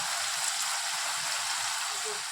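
Spice masala sizzles in hot oil for a dahi potato curry, a steady dense crackle and hiss that runs unbroken and close throughout.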